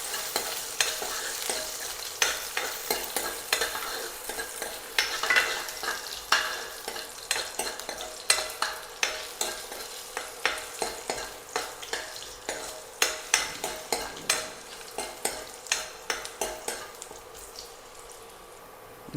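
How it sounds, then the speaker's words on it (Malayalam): Chopped garlic and ginger sizzle in a hot pan while a utensil stirs them, giving a steady frying hiss punctuated by many close, rhythmic scraping clicks from start to finish, with no talking. "ഇതിൻ്റെ പച്ചമണം പോണത് ജസ്റ്റ് നമുക്ക് ഇളക്കി കൊടുക്കാം."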